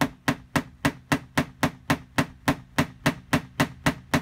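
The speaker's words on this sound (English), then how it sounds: "I mean, it sounds like you're hitting a nail." Steady hammer taps on a dented body panel of a Chevy Avalanche 2500 during paintless dent repair, about fifteen evenly spaced sharp metallic knocks, close and loud with no talking.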